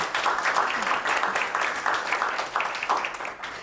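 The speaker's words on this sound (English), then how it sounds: "All right, round of applause for them" Applause from an audience at an awards finalists announcement event, a steady mass of clapping lasting several seconds at moderate loudness with a few voices mixed in.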